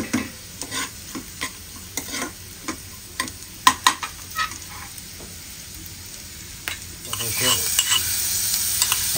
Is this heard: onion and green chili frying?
yes